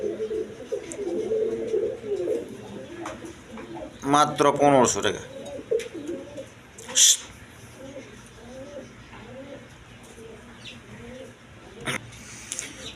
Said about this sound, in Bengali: দেখেন কবুতরগুলো দেখেন একবার কোয়ালিটি সম্পন্ন কবুতর